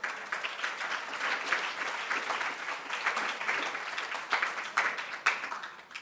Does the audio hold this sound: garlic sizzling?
no